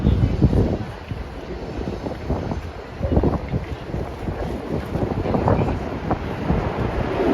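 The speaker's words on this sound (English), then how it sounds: "Wind is starting to pick up." Gusting wind buffets the microphone on a New York City street near West 16th Street and 7th Avenue, a loud broadband roar that swells and eases in waves with faint city noise beneath.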